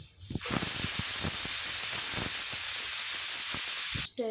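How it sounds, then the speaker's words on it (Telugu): A loud, steady hiss of steam escaping a pressure cooker whistle fills the clip, broken by soft rhythmic puffs before cutting off abruptly at the end. "కొంచెం వాటర్ యాడ్ చేసుకొని మూడు విజిల్స్ రానివ్వాలి"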